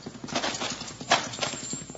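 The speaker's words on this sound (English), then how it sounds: "Horses, they're riding off." Horses gallop away at night, their rapid clip-clop hoofbeats drumming steadily at a moderate distance for two seconds, with a brief sharper sound partway through.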